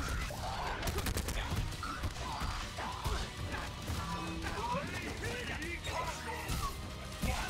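Dense action in the fighting game Killer Instinct, with repeated crashing blasts and booming explosions over a busy electronic soundtrack, with a voice talking.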